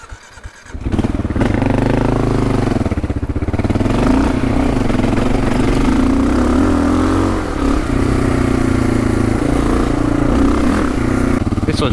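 A motorcycle fitted with Bridgestone AX41 adventure tyres rides off-road trails, its engine droning loudly and steadily close by after a brief quiet start, with a rider's voice faintly audible over it.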